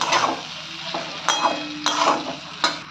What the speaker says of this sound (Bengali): এবারে এর মধ্যে পটল আলুগুলো সব দিয়ে দেবো, দিয়ে একটু মশলার সঙ্গেগুলো কষিয়ে নেব